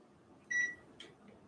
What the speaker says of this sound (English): let me set the timer again.